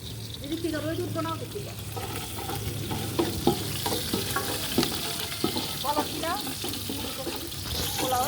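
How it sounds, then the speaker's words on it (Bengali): Onions sizzle in hot oil for pilau, a steady frying hiss with occasional stirring clinks of a utensil in the pan, while a person talks over it and water runs nearby. "এখন পোলাও রান্নার জন্য পেঁয়াজ ভাজা হচ্ছে"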